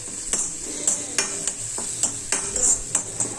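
Onions fry in a pan for a spinach egg fry, sizzling steadily while a utensil scrapes and taps against the pan in an uneven rhythm, close and clear with no talking.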